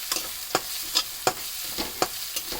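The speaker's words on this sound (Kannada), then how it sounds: "ಈಗ ಫುಲ್ ಹಸಿ ವಾಸನೆ ಹೋಗೋ ಮಟ್ಟ ಫ್ರೈ ಮಾಡ್ಕೋಬೇಕು" Onion frying in a pan with ginger garlic paste, a steady sizzle broken by about seven sharp scraping stirs of a spatula at an uneven rhythm, close and moderately loud with no voices.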